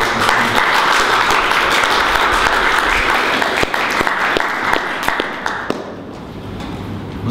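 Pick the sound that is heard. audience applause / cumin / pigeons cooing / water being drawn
audience applause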